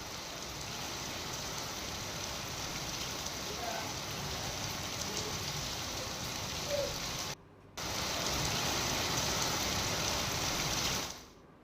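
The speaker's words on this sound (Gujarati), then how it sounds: "વહેલી સવારથી સુરતમાં ભારે વરસાદ અનેક વિસ્તારમાં પડી રહ્યો છે" Steady, dense monsoon rain pours down without letup in Surat, Gujarat, a broad wash of hiss and patter that drops out briefly near the end before resuming.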